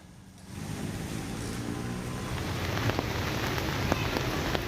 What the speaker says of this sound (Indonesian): Hujan deras yang mengguyur kawasan Jakarta